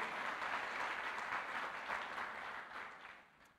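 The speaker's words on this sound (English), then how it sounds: "let's give the Lord a hand clap for that" A church audience breaks into steady applause that gradually tapers off, heard at moderate distance with no talking.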